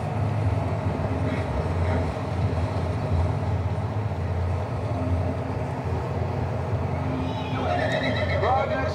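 In the Western video game Red Dead Redemption 2, a horse whinnies and hooves clip-clop over a steady rolling rumble, while characters talk throughout.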